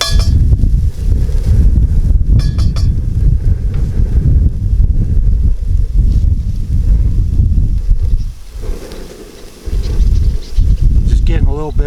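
Steady outdoor wind roars and buffets the microphone for the whole stretch beside a Dutch oven camp cooking setup, a loud continuous low rumble with brief dips, with faint speech-like sounds mixed in.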